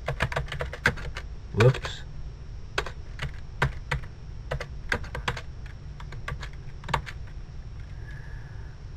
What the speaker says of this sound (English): we'll type in a city and a state